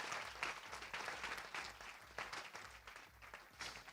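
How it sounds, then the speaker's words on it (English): Faint applause at a trail-race awards ceremony, a modest crowd clapping steadily with uneven bursts, heard from a distance and alone. "Big round of applause."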